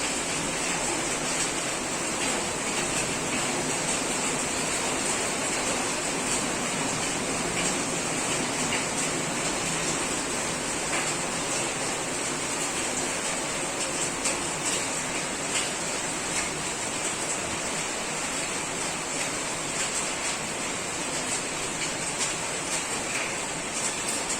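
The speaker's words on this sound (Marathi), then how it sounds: "पाऊस बघा किती जोरात येतो" Heavy monsoon rain pours in a dense, unbroken roar that stays loud and even throughout, with no voices heard.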